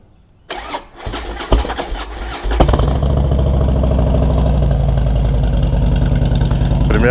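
A 2008 Harley-Davidson Dyna motorcycle cranks with a few clanks and catches on its first start of the day. It settles into a loud, close, lumpy idle with no talk.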